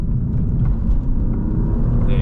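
Alfa Romeo Giulia QV accelerating out of a right turn, its engine a loud, steady low rumble that builds slightly throughout, with a voice talking over it.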